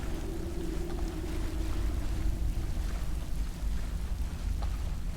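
A waterfall in the Skyrim video game pours with a constant, dense, low rushing roar, steady and unbroken throughout with no voices.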